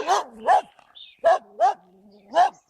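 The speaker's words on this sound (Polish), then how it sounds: "Te psy to tak czekają, czekają." Several dogs barking on a rural village walk, five loud sharp barks in an irregular rhythm with brief whimpering yips between them, fairly close by.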